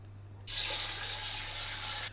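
Water from a tap gushes steadily into a soup pot for about a second and a half, a bright close splashing stream starting and stopping abruptly over a low background hum, with no talk.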